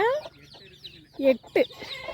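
A brooding hen sitting on eight duck eggs gives several low, throaty clucks in short bursts, close by, with quiet pauses between them.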